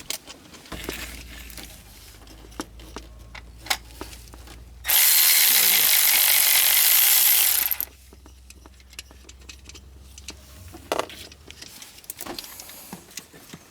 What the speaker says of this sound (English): we're gonna remove that power supply wire. Yeah, it's a 13.